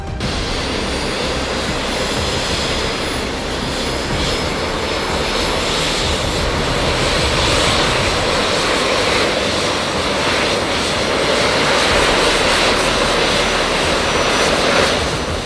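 A jetpack's engines roar loudly and steadily while it hovers, giving a dense, continuous jet-like blast with no pauses and no talk over it.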